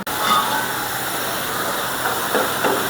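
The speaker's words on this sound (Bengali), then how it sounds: "মশলাটা আমি আর কষাই নিই," Spice paste sizzles steadily in hot oil while being sautéed for a hilsa and eggplant curry, a constant close hiss with faint stirring scrapes near the end.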